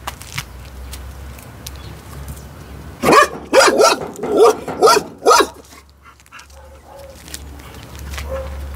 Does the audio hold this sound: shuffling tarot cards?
no